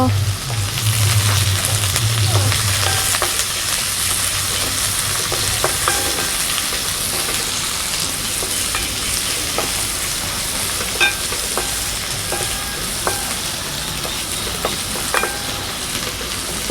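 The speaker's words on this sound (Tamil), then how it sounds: "கொஞ்சம் நல்லா வதங்கட்டும்" Ingredients sauté in a pan, giving a loud, steady sizzle throughout, with occasional light clinks and scrapes of stirring and a low hum in the first few seconds.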